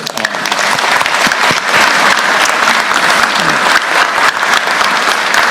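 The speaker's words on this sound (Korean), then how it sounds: "여기 또 박수 한번 쳐드릴까요?" Audience applause at a Korean public gathering, honoring the Fair Trade Commission's crackdown on price collusion: dense, loud, close clapping that holds steady for the full stretch with no voices over it.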